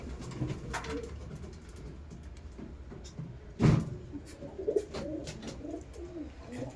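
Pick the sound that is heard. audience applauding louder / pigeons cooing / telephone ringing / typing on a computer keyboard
pigeons cooing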